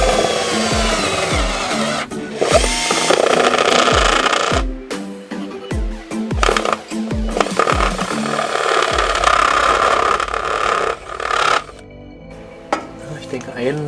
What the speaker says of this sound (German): Und jetzt gehe ich mit dem Stufenbohrer rein und bohre das auf den Durchmesser